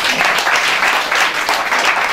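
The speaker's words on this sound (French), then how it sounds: "on vous applaudit bien fort." Loud, dense applause from an audience at a Miss Prestige Nouvelle Aquitaine pageant presentation, a steady wash of clapping throughout.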